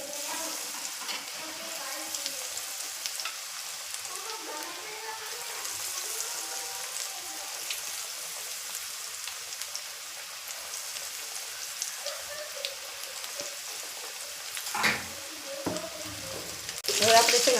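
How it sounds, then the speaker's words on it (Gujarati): Tomato bhajiya frying in a pan of reheated oil, a soft continuous crackle and sizzle with occasional louder spits, while a voice talks over it. "તેલ પાછું ગરમ થઈ ગયું છે ને હવે આપણે છે ને ટમેટાના બનાવવાના છે."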